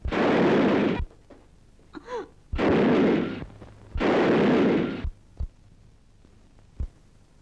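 Single sharp gunshot in a 1960 Turkish drama film scene, a hard crack near 1 s between stretches of loud music, followed by a faint echoing tail and sparse quiet thuds.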